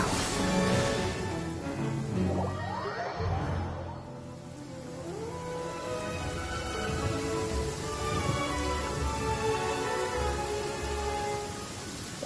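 Steady rain pours in the Genshin Impact video game, a dense wash of falling drops that holds throughout with some game sounds layered over it.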